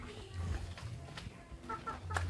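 Chickens clucking in a backyard coop at night, several short bursts scattered over a low steady background, fairly close and moderately loud with no talk over them.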